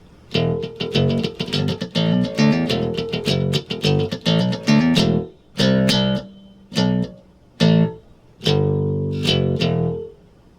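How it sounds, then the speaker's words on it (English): An electric bass guitar plays a short break, with a rapid run of plucked notes followed by several separated punchy notes and pauses, loud and solo. "Next, we'll do a short music break that sounds something like this."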